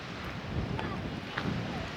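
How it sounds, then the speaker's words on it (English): Steady wind buffeting the microphone, a continuous rough rush with a couple of brief gusts, and faint murmurs in the background. "It's too windy."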